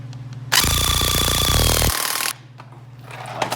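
A power tool, likely an impact wrench, tightens the rear shock absorber bolt on a Chevy Cruze in one loud, close, rattling burst of about two seconds before cutting off.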